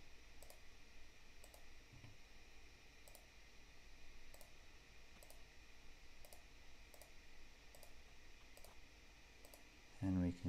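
Computer mouse clicks while selecting profiles in Fusion 360, a series of faint, evenly spaced single clicks over a low hum, closing with a louder knock.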